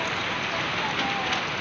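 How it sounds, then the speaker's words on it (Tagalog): Heavy rain pouring down in a dense, continuous hiss on surfaces, loud and even from start to finish. "napakalakas na naman ang ulan"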